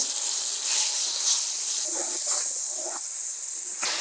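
Ginger-garlic paste and onion paste sizzling in a hot pan for a chole bhature dish, a steady loud hiss that swells and crackles, with faint talk beneath.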